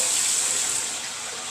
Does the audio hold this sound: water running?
yes